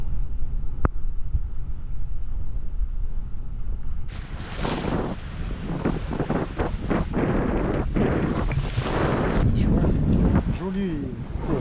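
Steady wind rushes past the microphone aboard a sailboat under sail in about 13 knots on a flat sea, a broad constant roar that grows louder and gustier partway through, with water noise mixed in.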